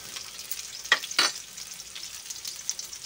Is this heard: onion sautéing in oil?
yes